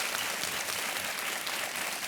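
A studio audience on the quiz show Kaun Banega Crorepati claps in a dense, even wash of applause that holds steady and loud for the whole stretch, with no voices over it.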